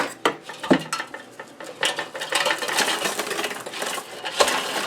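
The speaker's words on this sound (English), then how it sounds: "let's dump them out here on some parchment paper" Air-fried homemade croutons tumble and rattle onto parchment paper in a kitchen, a close, crisp scatter of light clattering hits followed by continued rustling and shaking.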